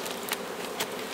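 Honeybees buzzing in an opened beehive during a brood inspection, a dense, steady hum from many bees close by with a couple of brief scraping ticks.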